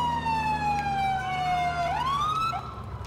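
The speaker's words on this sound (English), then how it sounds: "I had my sirens on." A loud electronic police car siren in the video game GTA IV wails steadily, its pitch sliding slowly down then sweeping back up, with a low engine hum underneath.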